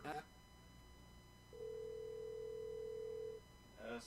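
A steady telephone tone sounds during a phone call, a single flat beep lasting under two seconds. Quiet voices talk briefly before and after it.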